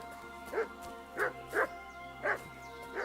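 Several dogs in Kingdom Come: Deliverance 2 give five separate barks, some paired closely, set back at middle distance against a constant background drone.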